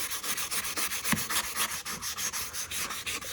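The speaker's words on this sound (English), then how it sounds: "Just come in here and scuff up this paint a little bit." Rhythmic back-and-forth scuffing of painted bodywork on a Honda Pilot before primer, a steady raspy rubbing heard close and loud with no talk.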